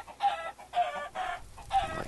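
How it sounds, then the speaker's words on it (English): Chickens in the video game Soul Cauldron give four short, evenly spaced clucks, close and clear against a quiet background. "Come here, chickens. Come towards the cooking fire."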